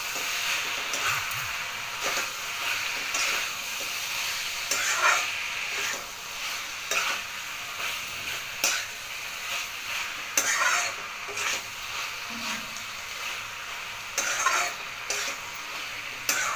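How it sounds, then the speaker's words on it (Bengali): Chicken keema being stirred into potatoes in a pan, with repeated scraping and clinking of a utensil against the pan over a soft background sizzle, close and fairly quiet, no talk. "চিকেন কিমাটা দিয়ে খুব ভালোভাবে আলুর সাথে মিশিয়ে দেবো"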